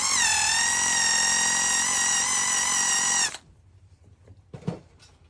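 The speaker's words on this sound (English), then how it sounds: "I'm just going to give this this area a quick whiz up with a polisher." Polisher running on a Porsche Carrera 911 panel while small dents are removed: a close, steady high-pitched whine that cuts off sharply after about three seconds, followed by a quiet room and a brief knock.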